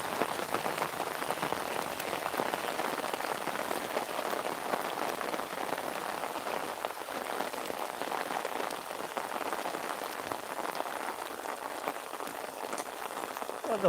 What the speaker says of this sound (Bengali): বৃষ্টির মধ্যে চলে বৃষ্টি পড়ছে অলরেডি দেখুন অবস্থা দেখুন